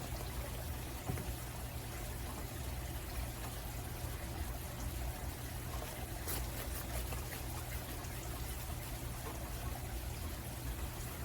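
Country sausage gravy simmers and bubbles steadily in a pan, giving a constant soft, dense crackle and burble at low level that runs the whole time with no talk over it.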